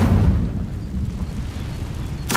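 Incendio fire spell cast in Hogwarts Legacy: a deep, loud whooshing burst of flame that rumbles on and slowly decays, ending with a short sharp crackle.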